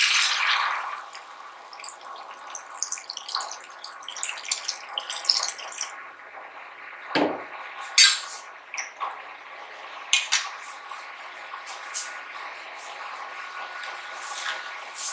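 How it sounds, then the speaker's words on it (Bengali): Water poured into a cooking pot while making raw mango chutney, a soft splashing trickle with scattered clinks and drips, close by and moderately quiet. "দিয়ে জল দিয়ে দিচ্ছি"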